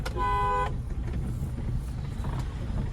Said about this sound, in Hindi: चलो हॉर्न दे दो